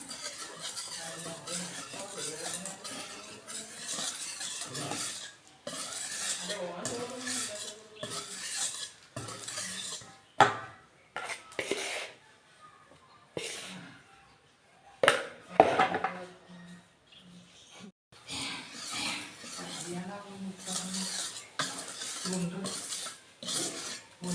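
Cake batter is mixed with milk in a bowl: a series of irregular scraping, stirring strokes and clinks of a utensil against the bowl, with quiet gaps between bursts and no talking.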